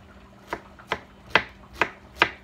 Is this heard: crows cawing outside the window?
no